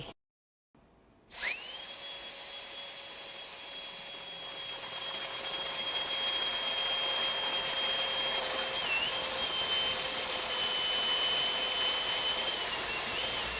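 A Luna Jet Fan portable jet blower spins up after a brief click and then runs steadily. It makes a loud, high, whining rush of air with a sharp tonal whistle that holds for over ten seconds.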